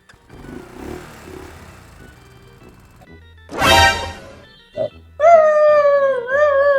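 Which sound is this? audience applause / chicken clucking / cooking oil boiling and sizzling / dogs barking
dogs barking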